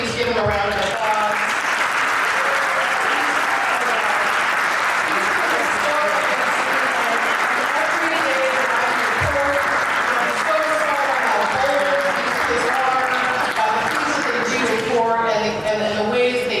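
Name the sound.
audience applause for career counselors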